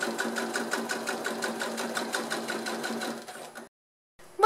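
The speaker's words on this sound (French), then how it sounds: "Quand j'arrive dans l'angle, je plante mon aiguille, je lève le pied et je tourne tout simplement. Et je continue ma couture jusqu'en bas." A sewing machine stitches two clear plastic sheets together for a transparent school pencil case, running in a steady rapid pulse close by for over three seconds, then stopping, with a short handling noise at the end.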